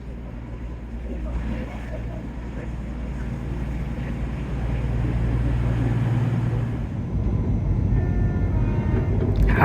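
A train rumbles past nearby at Dawlish with a loud, steady low roar and wheel noise that builds and holds, wind buffeting throughout.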